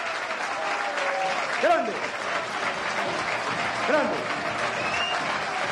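A crowd of Real Madrid supporters gives a standing ovation for José María Gutiérrez Guti at a rally before the Madrid-Barça match, a dense roar of clapping with someone shouting over it.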